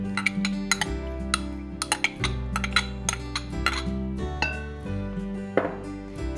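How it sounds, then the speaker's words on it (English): A spoon scrapes melted butter out of a bowl while making cookies, giving a run of light metallic clinks and scrapes against steady background music. "I like to scrape it with a spoon just to make sure all that butter is out"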